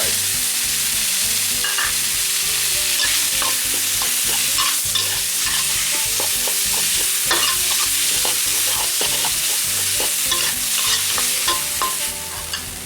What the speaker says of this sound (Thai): นี่ผัดจนหอมแล้ว